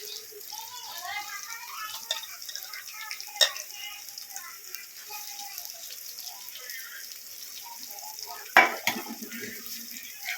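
Soy chunks are tipped into a hot pan and stirred, giving a soft, steady sizzle with occasional spoon-and-pan clinks and scrapes. The sharpest clatters fall at two separate moments.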